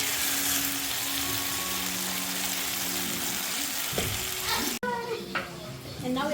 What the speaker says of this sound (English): is transferring the mix from the boiling pot to the pan.